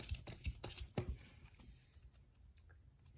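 A deck of romance angel oracle cards is shuffled by hand, with quick close riffling and snapping bursts at first, then softer sliding and rustling as the shuffle slows.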